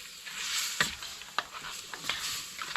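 Pork and vegetables sizzle in a hot pan as they are stir-fried, with steady frying hiss and several sharp scraping strokes of a spatula.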